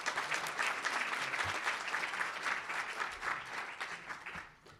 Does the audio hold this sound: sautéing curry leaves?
no